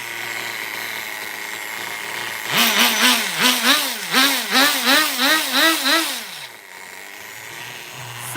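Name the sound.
HPI RS4 nitro RC car engine idling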